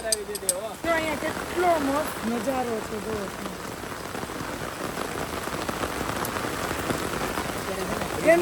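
Monsoon rain at Saputara patters steadily on a surface, close and continuous, while a person talks over it in the first few seconds.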